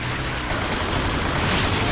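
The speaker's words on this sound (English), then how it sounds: "Stop shooting at me!" Enemy gunfire in the shooter game Rage, a dense, continuous spray of rapid shots and bursts filling the whole moment, loud and close with no pauses.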